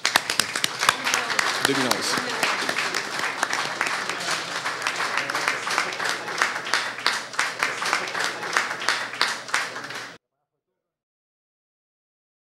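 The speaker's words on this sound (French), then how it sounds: "je vous prierai d'applaudir nos partenaires" An audience claps for the partners at a Montreal ceremony honouring graduated entrepreneurs, steady broadband clapping with a speaking voice over it that stops abruptly after about ten seconds.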